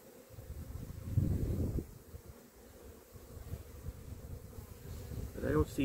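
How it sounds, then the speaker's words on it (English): Honeybees in a wintering mini-nuc hive give off a low, continuous buzz that swells briefly at about one second and again near the end, with faint handling noise and a short vocal sound close to the end. "But there's a big clump of bees here."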